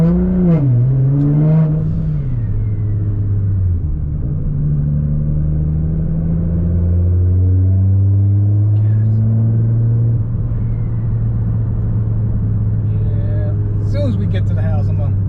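A tuned 800 wheel-horsepower Nissan GT-R revs and pulls hard while driving, its engine note rising and falling in strong, rumbling sweeps close up, with voices talking over it inside the car.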